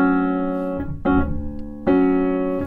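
Piano chords struck in a short syncopated Charleston rhythm, on beat one and the end of beat two, each ringing and sustaining before the next, played alone and fairly loud.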